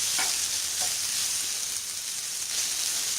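Egg fried rice sizzling steadily in a pan, with a few soft stirring scrapes near the start over a constant bright frying hiss.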